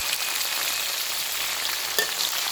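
Grasshoppers frying in hot oil give a steady, dense sizzle with a brief louder crackle near the end, close and continuous with no voices.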